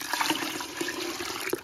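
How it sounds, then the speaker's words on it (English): Water splashes and trickles as it is poured into a container of fermenting chicken feed, a brief, close, gurgling pour. "Definitely gonna need some more water than that."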